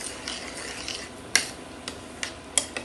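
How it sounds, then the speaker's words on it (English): A spoon stirs garlic into a dish, giving a few sharp clinks and scrapes against the pan or bowl, spaced irregularly over a soft background hiss, fairly faint and close. "And stir that in."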